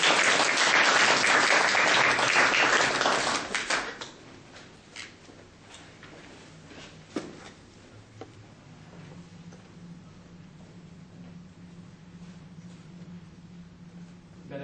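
Audience applause welcoming a speaker at a public speaking competition, loud sustained clapping for about four seconds, then fading to scattered claps, a few knocks and quiet room noise.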